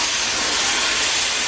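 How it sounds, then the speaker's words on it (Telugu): Steam hisses steadily from an engine at a cashew processing plant in Palasa, where the steam cooks the nuts. The hiss is loud and broadband and continues without a break. "ఆవిరి స్టీమ్ ఇంజిన్ నుండి వస్తుందా?"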